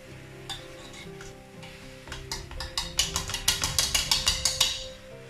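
Steady sizzle of vegetables frying in a pot, yellow split peas added, with a run of rhythmic scraping stirs and clinks growing louder toward the end.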